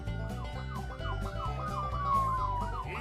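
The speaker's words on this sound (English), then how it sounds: "warning, not a real police car. You can check in your mirror, but don't pull over." A police car siren sound effect wails in a steady, looping pattern for about three seconds, loud and continuous with no talking over it.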